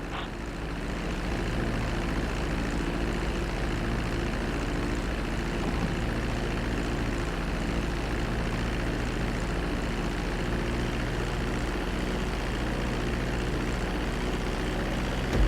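A steady, droning propeller airplane engine in Grand Theft Auto V runs without pause during a low approach to a runway, a dense constant roar with a low throbbing hum and no voices.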